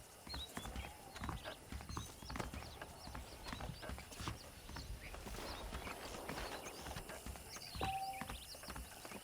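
Horse hooves clip-clopping at a steady walking rhythm in the Red Dead Redemption western game, fairly close and moderately quiet, with a brief whinny-like sound and no talk over it.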